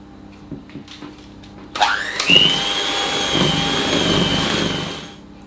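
An electric mixer beating cake batter for a cut-and-come-again cake whirs up after a few faint knocks, holds a steady loud drone for about three seconds, then winds down.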